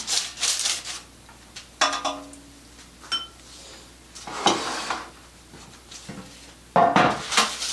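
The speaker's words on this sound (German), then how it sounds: "ich werde jetzt ein Backblech nehmen, habe jetzt Backpapier drauf getan, bisschen Öl, mit Öl bepinseln" A brush scrapes and taps across a baking tray lined with baking paper as oil is spread for Russian piroshki, in short bursts of rustling with quiet pauses and light metallic knocks.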